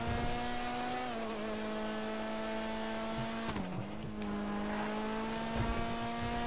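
A car engine in the GTA 5 video game, revving steadily and loudly with a sustained tone that dips briefly at a shift before climbing again, close and continuous without speech.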